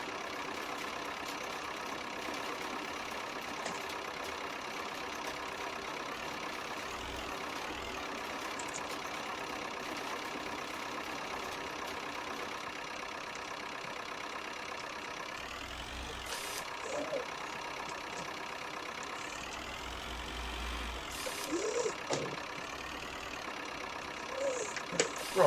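A 1961 tractor engine runs at a steady idle through the whole stretch, a continuous mid-pitched rumble with slight fluctuations and a few louder bumps near the end, fairly close, no speech.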